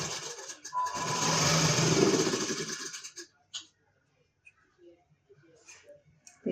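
A sewing machine stitches a blouse in a close, buzzing three-second run that stops abruptly, followed by faint cloth handling and small clicks in near silence.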